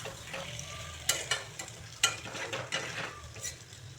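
Boiled potatoes fry in a pan, a soft steady sizzle with a few sharper scrapes and taps of a spoon stirring them, fairly quiet and with no talking.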